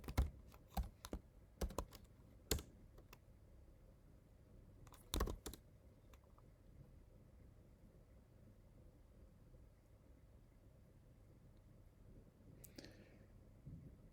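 Sparse clicks of a computer keyboard as commands are typed on Ubuntu during a MySQL update, a few quick bursts of keystrokes and then long quiet gaps, faint and close.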